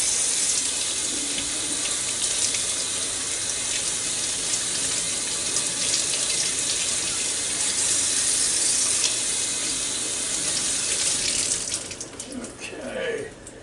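Kitchen tap water running over beef ribs in a sink, a steady close splashing gush that continues for several seconds before tapering off near the end as the flow is disturbed.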